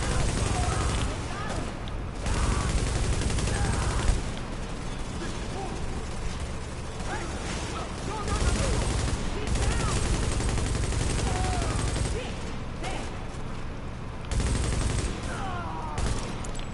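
Light machine gun fire in The Division's Underground expansion, with sustained rapid bursts separated by short pauses across the whole stretch, loud and close, while someone talks over the shooting.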